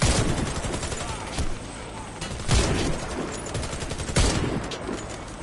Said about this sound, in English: Oh, we got gunfire out here.